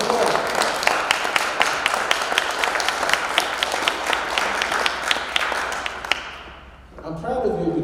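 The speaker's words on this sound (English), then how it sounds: "Give her a round of applause." A crowd applauds at a prison-themed talk, with dense steady clapping that tapers off near the end as a voice starts speaking.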